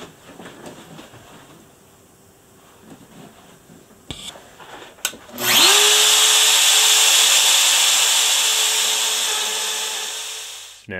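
A Shaper Origin handheld CNC router runs its Z-touch depth probe on a workpiece after a bit change: quiet shop sounds and a few clicks, then the motor spins up into a loud, steady high whine that holds for about five seconds before cutting off.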